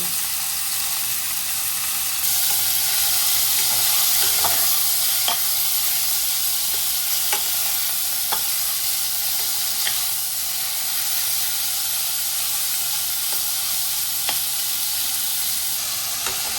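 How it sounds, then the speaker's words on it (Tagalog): Pork fries in a hot pan (kawali) over medium-high heat, a loud, continuous sizzle and hiss with scattered pops and crackles throughout, close and steady with no talking. "pag mainit yung ating kawali, lagay na natin yung ating pork"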